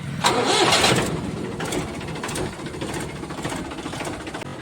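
A Mahindra B 295 tractor, a 2011–12 model, self-starts: a loud starter crank at close range catches into a running diesel engine that settles into a steady, rough idle.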